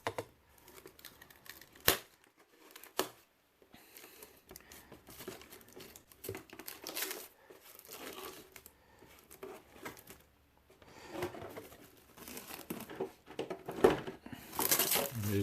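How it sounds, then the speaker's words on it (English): Protective overspray film peeling off a clear Tamiya Lexan RC car body for a Datsun 240Z, heard as close, intermittent crinkling and tearing rustles with short sharp crackles and pauses, no talk. "So each body comes with a outer overspray protective coat. And what you do is you start peeling it off."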